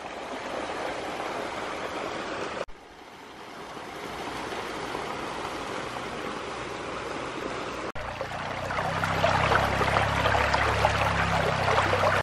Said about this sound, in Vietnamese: Con suối nhỏ này là nơi cuối nguồn của những cái dòng nước mạch ở trên rừng núi cao.